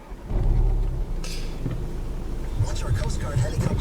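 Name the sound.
2015 Audi TT 2.0 TFSI engine starting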